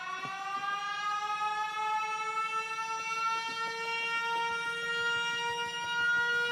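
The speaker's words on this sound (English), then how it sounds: "Siren's gone off." Alarm siren in the Factorio video game, a sustained harmonic wail that slowly rises in pitch, loud and continuous with a faint ticking pulse underneath and no talk.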